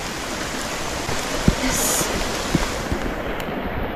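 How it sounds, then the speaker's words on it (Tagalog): Water gushes steadily from a storm drain in Shing Mun Country Park, a loud, constant rushing roar like a small waterfall, with a few sharp clicks and a brief spoken word over it. "akala ko waterfall. Imbornal pala."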